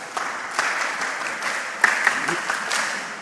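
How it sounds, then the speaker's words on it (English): Audience at a mentorship session clapping, a scattered round of applause with a few sharper individual claps standing out over a soft room background. "Yes, clap for yourself."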